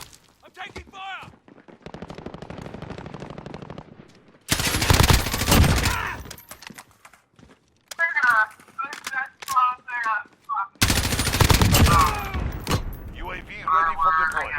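Gunfire in a Call of Duty: Modern Warfare (2019) match inside a warehouse, coming as loud sharp bursts and volleys that alternate with quieter stretches, mixed with game radio chatter and voices.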